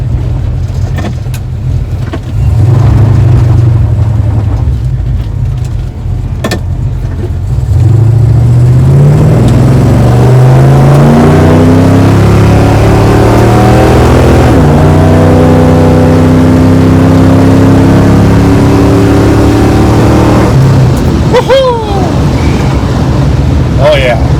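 A 1973 Dodge Dart Swinger engine idles, then revs hard and climbs through several gears under full acceleration, its loud, close roar rising in pitch with each shift.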